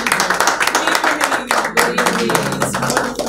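Studio audience applauding in a steady, close burst of clapping hands that fills the whole moment.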